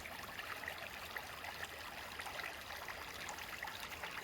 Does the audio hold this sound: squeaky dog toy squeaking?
no